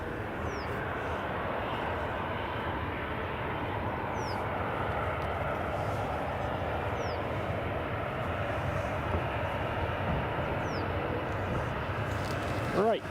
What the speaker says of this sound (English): Right, KLM's just taxiing.